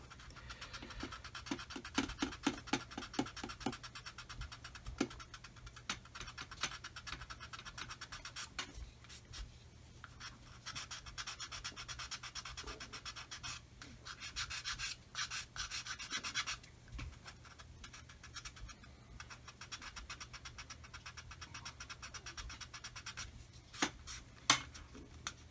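Sanding a model kit window, with a dry, scratchy rasp of repeated strokes that come quick and dense early on and then settle into steady rubbing, close by with no talk.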